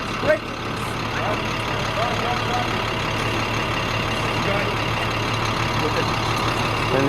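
A truck engine idles steadily at a port during container unloading of Japanese import cars, a constant low rumble running throughout, fairly close and unbroken.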